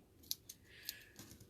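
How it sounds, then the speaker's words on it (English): Ribbon scissors handled during bow-making, giving a few sharp metallic clicks and snips spaced irregularly, close and fairly quiet, with no talking. "ribbon scissors right here."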